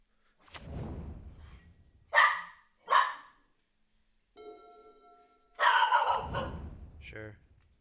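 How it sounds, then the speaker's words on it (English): A dog on alert at something suspicious outside gives a few short, sharp barks and huffs indoors, mixed with breathy gasps and a brief patch of other sound in between. "My dog is on the alert of something outside, something suspicious."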